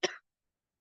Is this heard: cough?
yes